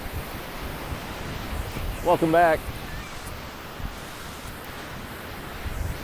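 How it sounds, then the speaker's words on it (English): Steady roaring wind and rough rolling surf on an East Coast US shoreline fill the whole stretch, with a brief spoken greeting partway through. "Windy day out here on the shoreline of the East Coast US."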